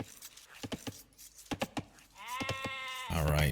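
Sheep in the Age of Empires strategy game give a drawn-out bleat near the end, after a string of short, sharp clicks and ticks from the game's interface.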